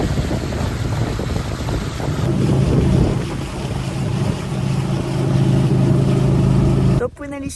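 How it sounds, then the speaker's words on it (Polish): A small boat motors along a river near Banlung in Ratanakiri, Cambodia, with a steady engine drone and heavy wind buffeting the microphone, while people talk over it. "Już siedzimy w łódce."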